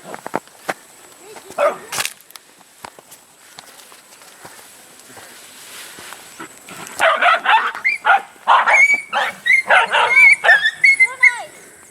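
Several dogs on a farm in the Philippines bark, yip and whimper in a rapid, overlapping burst close by, following quieter footsteps and brief talk.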